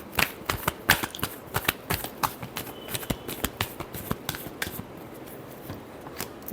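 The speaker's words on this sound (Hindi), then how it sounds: "Last shuffle." Tarot cards shuffled by hand, a run of quick crisp riffling snaps and flicks in an irregular rhythm, close and fairly quiet with no talking.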